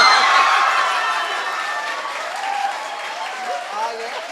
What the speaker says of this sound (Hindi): ताली बढ़िया से बजाओ अगर बजानी है तो